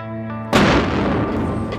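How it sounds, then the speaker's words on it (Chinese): A pound of black powder detonates inside the concrete-caked drum of a cement mixer truck: one sudden, loud blast followed by a long, rumbling roar that slowly fades. "专家决定使用1磅的黑火药进行爆破实验"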